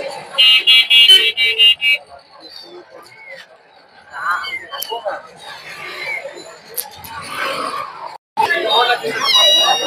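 Cats and kittens meow and squeal at a busy cat market in Mirpur, Dhaka, with several short, loud cries at the start and more calls later, amid crowd chatter and people talking throughout.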